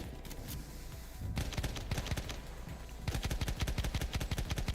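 Rapid machine-gun bursts in Battlefield 1 multiplayer, dense and rattling, coming in a few long volleys that grow louder toward the end, with no voices.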